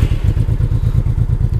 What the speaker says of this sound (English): then I started the motorbike the first time